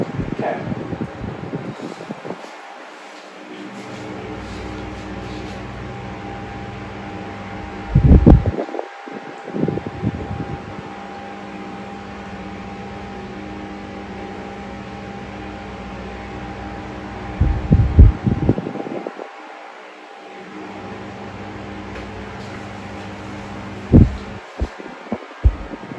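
A 12-inch desk fan running on high and oscillating, its steady hum and airflow rising and falling in slow sweeps, with rattling buffeting bursts each time the head swings past close by.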